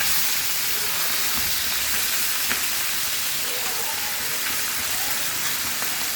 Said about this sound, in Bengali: চচ্চড়ি রান্নার জন্য মাছগুলো আগে ভেজে নেই